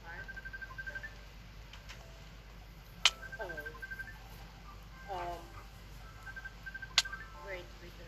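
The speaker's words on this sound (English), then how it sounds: "Great, now we have a ringtone." A phone ringtone plays as a faint repeating electronic tone pattern, with two sharp clicks and some chirpy sounds nearby, while voices speak over it.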